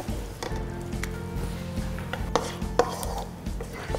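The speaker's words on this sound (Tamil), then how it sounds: "ஸோ இதை வந்து நல்லா மிக்ஸ் பண்ணிடலாம்." Tomatoes stirred into a Konkani chicken curry in a pan, a low steady sizzle with repeated scraping and knocking of the spoon against the pot, a couple of sharper clicks, no voices.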